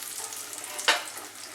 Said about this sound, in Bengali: মাঝারি আঁচে কিন্তু চপগুলো আমি ফ্রাই করব।